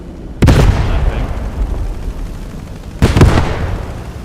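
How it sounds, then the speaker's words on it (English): An aircraft strafing run in the video game Squad 44 on the Carentan map, two separate heavy bursts of rapid gunfire with booming impacts, each fading into a rumbling tail. "Another strafe comes in."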